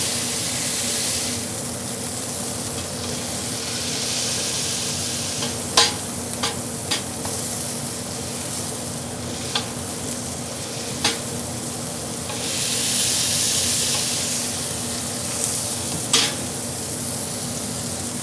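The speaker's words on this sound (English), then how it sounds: "those are going to crisp up perfectly on this hot cast iron skillet" Seasoned balls pressed flat sizzle and fry on a hot cast iron skillet. A steady hiss runs throughout, with occasional sharp scraping clicks and louder bursts of spitting oil, and no speech.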